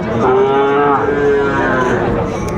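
A Sahiwal bull calf at a livestock market in Dinajpur gives one loud, close, drawn-out moo lasting a couple of seconds over faint crowd noise.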